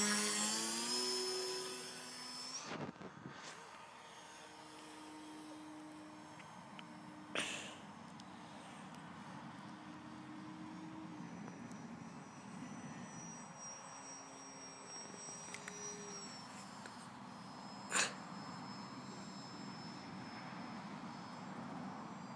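Electric motor of a HobbyKing Bixler RC plane at takeoff, a thin whining tone that rises and shifts in pitch over a quiet outdoor background, with a few sharp clicks or bumps and no speech.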